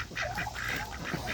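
A duck calls repeatedly near a coop, a run of short nasal quacks at close range with no talk.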